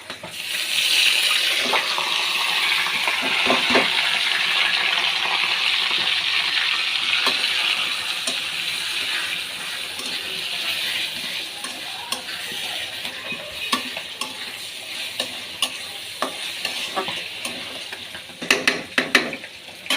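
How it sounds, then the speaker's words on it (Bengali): Fish frying in a pan beside rice being poured in for pulao, with a steady loud sizzle and hiss broken by scraping stirs and light clinks toward the end; no voices. "এদিকে মাছ ভাজিটাও হচ্ছে, পোলার চালটা ঢেলে দেবো।"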